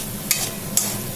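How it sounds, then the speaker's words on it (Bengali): Spice paste of turmeric, dried chilli powder and tomato being sautéed in a pan with fried onion, a steady sizzle broken by two brief scraping stirs. "এটাকে এবার ভালো করে মশলাটা কষে তারপরে মাছটা দেবো এর মধ্যে"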